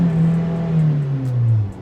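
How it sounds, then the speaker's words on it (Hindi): A Maruti Fronx with the 1.2L engine revs up and holds there, heard from inside the cabin as a smooth, steady engine drone with a rising then falling pitch and no talking. "इंजन बहुत रिफाइंड है, फिर भी अगर मैं रैव करके दिखाऊं"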